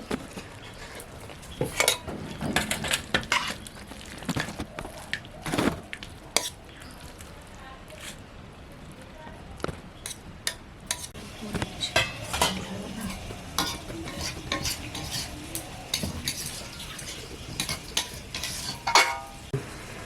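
Cabbage chicken curry being poured and scraped out of a pan, a run of irregular metallic clanks and spoon scrapes over a faint sizzle, close and uneven in loudness, with no voices.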